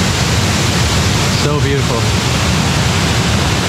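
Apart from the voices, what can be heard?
El Chiflon waterfall roaring in Chiapas, Mexico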